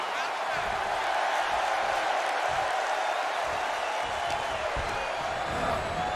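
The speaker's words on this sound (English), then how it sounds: "the sound of this crowd is deafening, and he's asking for more" Wrestling crowd roaring and cheering continuously in an arena, a dense loud wash of noise with thuds from the ring and a commentator talking over it.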